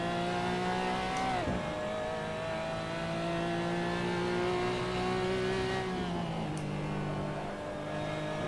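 A Porsche Cayman GT4 Clubsport engine in Assetto Corsa revs hard on the Summit Point track, its pitch climbing steadily, dropping at a gear change, and pulling up again in a loud, continuous drone.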